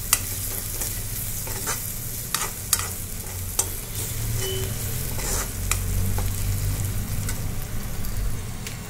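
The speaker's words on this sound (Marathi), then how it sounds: "इथे मी ओली मिरची आणि ठेचलेलं लसूण घालणार आहे आणि छान परतून घेणार आहे" Green chilies and crushed garlic sautéing in hot oil for brinjal bharta, a steady close sizzle with occasional sharp pops and the scrape of a stirring spoon, continuous and without speech.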